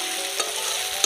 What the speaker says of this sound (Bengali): পেঁয়াজটা ভালো করে একটু ভেজে নেব।